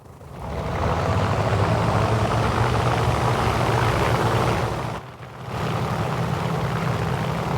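Aircraft engine in War Thunder, a loud continuous propeller drone that dips briefly near the end and then resumes, with no talk.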